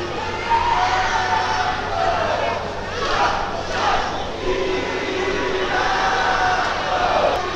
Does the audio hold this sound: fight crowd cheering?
yes